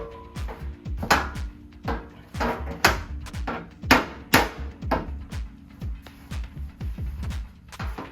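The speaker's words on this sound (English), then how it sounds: "on this one I kind of just gave it a little pop of the hammer" Repeated sharp hammer taps on a Triumph Spitfire body panel during hammer-and-dolly work, striking in irregular bursts with metallic ringing. Close and fairly loud, with no voices.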